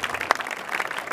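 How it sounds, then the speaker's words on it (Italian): Applause from an audience at a live comedy sketch show, a steady patter of many hands clapping at moderate volume, continuing through the moment without voices. "Poi continuate l'applauso, sennò si crea il buco"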